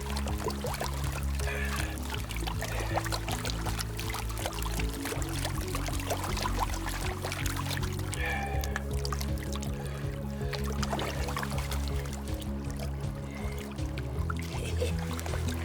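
Water sloshing and swirling in a gold pan while panning down concentrate from a sluice mat over a tub, a continuous close wet churning with no talk.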